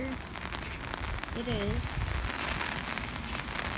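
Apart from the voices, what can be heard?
rain falling outside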